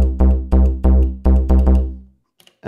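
Distorted synth pattern from an Elektron Syntakt for melodic techno: five loud, gritty bass-heavy hits in a regular rhythm, each decaying, then a short gap of near silence before another hit begins.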